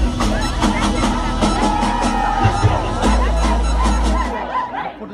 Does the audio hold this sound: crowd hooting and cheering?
yes